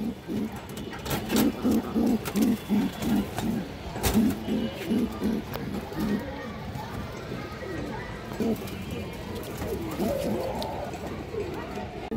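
Pigeons cooing in a loft of kept birds, a rhythmic series of low throaty coos repeating near the start, with someone talking over the birds and background shuffling.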